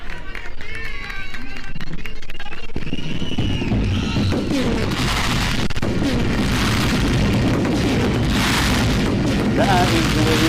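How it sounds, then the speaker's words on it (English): Fireworks go off at the National Stadium in Managua before a Nicaraguan football match, loud repeated booms and crackling bursts layered with crowd noise and a commentator's voice. "That is the way we like to start with the fireworks display"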